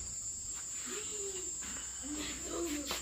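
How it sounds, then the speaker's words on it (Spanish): Crickets chirp in a steady, continuous high trill outdoors at a home, fairly faint, with soft voices murmuring in the background. "Oiga los grillos, mire."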